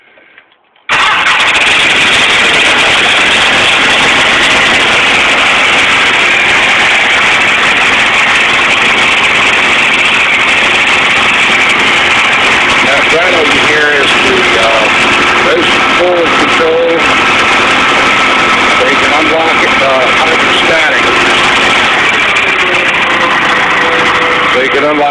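A Wheel Horse 520-H hydrostatic garden tractor engine starts from cold with a little choke and fuel, then settles into a loud, steady idle running close by for about twenty-four seconds, with a voice briefly heard over it.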